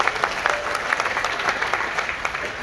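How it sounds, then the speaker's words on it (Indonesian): A church congregation at a Christmas service claps together in a sustained, fairly close burst of applause, many hands beating unevenly at a steady level throughout. "Tepuk tangan dulu buat Tuhan."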